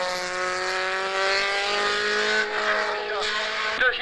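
Rally race car number 18 sounds a sustained, steady engine note at high revs while driving past, with an abrupt change near the end and faint voices underneath.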